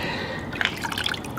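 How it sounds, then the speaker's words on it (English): Water dripping and trickling out of a soaked Samsung Galaxy S8 and iPhone 7 Plus, a few light drips over a steady wet hiss. "It's a lot of water coming out though."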